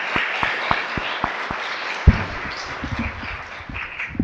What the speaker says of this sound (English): Another round of applause for Cynthia and Alexis.